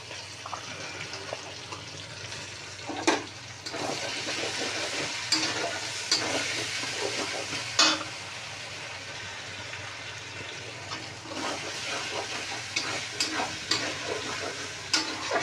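Ginger, garlic and green chilli paste sizzles with browned onions in a pan for prawn pulao, a steady loud frying hiss with occasional sharp stirring scrapes and clatters throughout.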